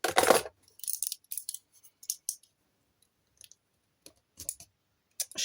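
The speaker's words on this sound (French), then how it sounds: "je vais peut-être prendre un cutter un petit peu plus petit" A small utility knife is picked up and handled close by, giving faint, scattered clicks and light rattles, with quiet gaps between them.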